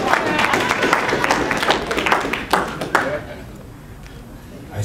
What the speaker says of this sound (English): Can you give my man Spencer a round of applause